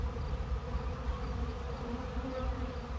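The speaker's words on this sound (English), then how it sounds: "These are Italian bees that Moz and I bunked April 26th, 2014 this year." Italian honey bees buzz in a continuous, close swarm drone, an even, low hum that holds steady throughout with no talking over it.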